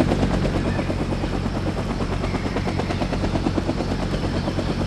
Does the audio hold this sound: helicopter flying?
yes